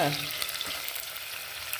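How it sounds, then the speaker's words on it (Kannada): Onions fry in a steel vessel with a steady, close sizzle and soft crackle, an unbroken frying hiss over the short stretch with no talk. "ಈರುಳ್ಳಿ ಫ್ರೈ ಆಗಲಿ"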